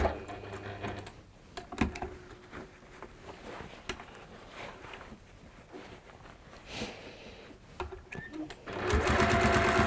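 A sewing machine stitches around a small rectangle of fabric in fast rhythmic bursts, with short pauses between runs and a loud, steady run at the end; the sound is close and has no talk over it.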